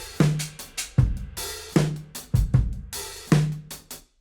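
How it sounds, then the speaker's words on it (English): A drum kit picked up through Coles 4038 ribbon overhead microphones: a loose groove of kick, snare and cymbal hits, roughly eight strikes in four seconds, full-bodied with soft, rounded highs and no voices. "I'm using 4038s Coles. They are ribbon microphones and alone sound like this."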